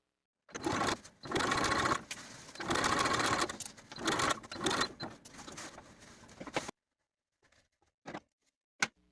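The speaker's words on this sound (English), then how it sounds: "I'm going to sew them in place, sewing from the outside edge to the point" A sewing machine stitches bust darts on a puff-sleeve ruffle dress, sewing from the outside edge to the point: several close, loud whirring runs over about six seconds, then it stops, leaving only a few faint clicks.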